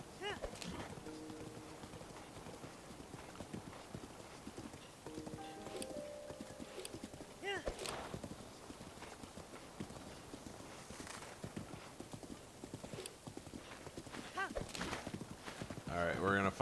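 Horse hooves clip-clopping and galloping in Zelda Breath of the Wild, a steady rapid rhythm running throughout, with a horse whinny and someone talking over it.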